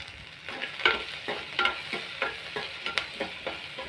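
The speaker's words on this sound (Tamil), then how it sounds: "நல்லா வதங்குது." Vegetables sautéing in a pan for beans and potato kurma, a steady close sizzle broken by repeated scraping stirs at a regular rhythm, with no voices.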